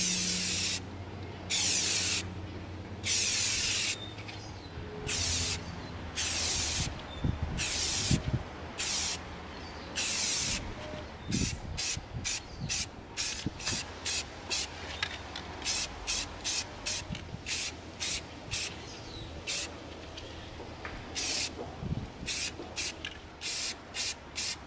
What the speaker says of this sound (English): We're going to begin coating our blunderbuss with our flat black.